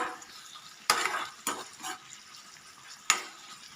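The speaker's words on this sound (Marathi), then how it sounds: "थोड्याशा तेलावर गुलाबी होईपर्यंत खरपूस याला भाजून घेऊया" Long thin slices of a large onion fry in a little oil until golden brown, a soft background sizzle broken by a few sharp clinks and scrapes of a stirring utensil against the pot.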